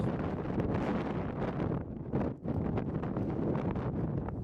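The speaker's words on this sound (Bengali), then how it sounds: "প্রচণ্ড জোরে হাওয়া দিচ্ছে" Strong wind buffets the microphone in heavy, roaring gusts on the Hooker Valley Track near Mt Cook, New Zealand, with a brief lull partway through before the blustering resumes.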